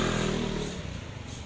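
A matic motor scooter revs up briefly and close by, its engine note rising and then trailing off into a rattly, uneven idle within a second or so.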